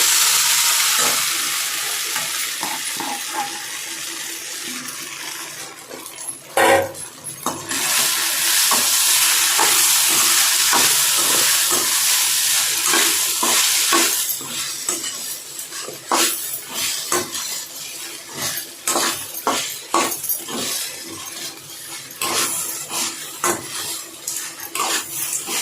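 Idli pieces stir-fried with green chillies in a pan for idli upma give a steady, loud sizzle, with frequent scraping and clinking strokes from a spoon against the pan all through.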